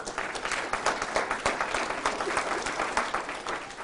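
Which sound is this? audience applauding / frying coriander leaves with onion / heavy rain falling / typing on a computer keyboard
audience applauding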